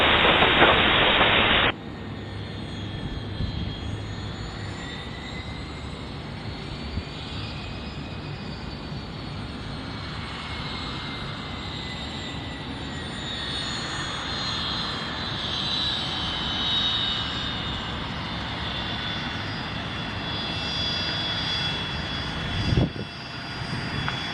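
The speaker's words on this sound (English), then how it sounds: "Pilatus 412 Charlie Uniform, runway 25 left, cleared for takeoff." Pilatus PC-12 single turboprop engine on its takeoff roll from runway 25 left, a loud steady whine and drone with a rising tone, held close throughout after a brief sharp burst at the start.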